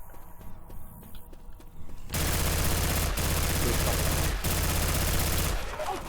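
Rapid automatic rifle fire from the zombie shooter Left 4 Dead 2 erupts after about two quiet seconds and keeps hammering loudly and continuously to the end, with only a couple of tiny breaks in the stream of shots.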